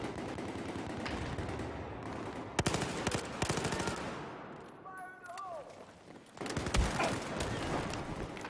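AK rifle fire in the video game Battlefield 4 comes in loud bursts of rapid shots, separated by quieter stretches with a brief electronic tone, then another heavy burst near the end; someone talks over parts of it.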